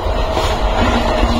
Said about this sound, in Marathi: एकदम सुपर फास्ट ट्रेन चालतं.